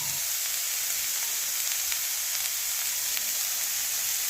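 Chili flakes hit hot oil while a winged bean (dambala) dish is being cooked, giving a loud, even sizzle that holds steady throughout with only faint crackles on top and no talking.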